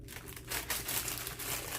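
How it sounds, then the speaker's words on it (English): Crinkling of plastic packaging around a yarn club subscription installment, a close, continuous rustle and crackle that swells and fades over a couple of seconds with no voices. "Sorry for the crinkling."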